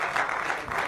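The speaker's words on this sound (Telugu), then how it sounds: "దేవునికి చప్పట్లు కొడుతూ దేవునికి స్తోత్రాలు చెల్లిద్దాం." Church congregation clapping together in steady, sustained applause during a worship service, close and fairly loud throughout, with no talk over it.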